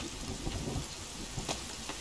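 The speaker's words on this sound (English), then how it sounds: "Oh, it's gonna rain." Rain falls in the survival video game The Forest, a steady, dense hiss of rainfall with occasional brief louder spatters, heard alone at a constant moderate level.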